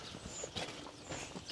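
Horse walking across a racing stable yard at a Cheltenham Festival yard, hooves giving a steady clip-clop of several close steps over a continuous outdoor background.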